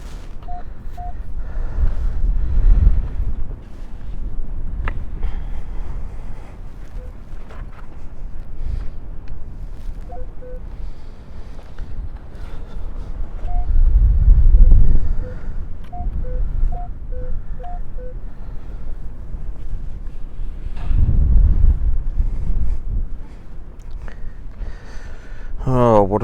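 Heavy gusting gale wind on a beach buffets the microphone with a steady low rumble that surges in several strong blasts, with no voices.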